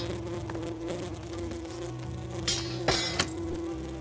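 Bees buzz in the video game Lucky Tower Ultimate, a dense, continuous insect drone with a few sharp clicks and cracks near the end.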